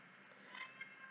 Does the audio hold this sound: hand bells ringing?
no